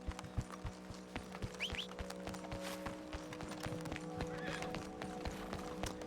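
Horse hooves clip-clopping at a steady pace in Red Dead Redemption 2, with an occasional whinny, set over a constant game music and ambience bed at moderate loudness.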